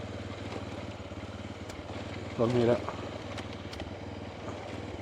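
A Honda Dominator motorcycle engine idles and runs on a gravel track with a recurring fault noise, a steady mid-pitched thrum with a brief louder surge, while someone talks over it.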